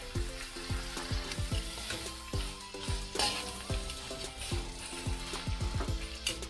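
Duck pieces frying in a pan with browned garlic and softened onion, a steady sizzle broken by rapid clattering knocks of a utensil stirring against the pan, close and fairly loud, with no voices.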